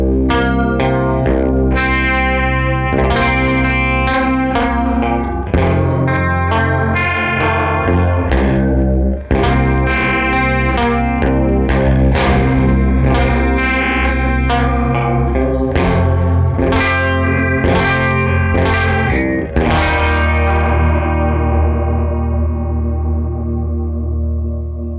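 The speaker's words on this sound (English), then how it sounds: "we now have, once more, the two voices moving in symmetric unison to thicken up that detuned chorus sound" Mirror House chorus pedal with two detuned voices moving in symmetric unison, thickening a dense, distorted guitar chord texture that rings loud and steady for the whole stretch, with strummed attacks recurring and no talking.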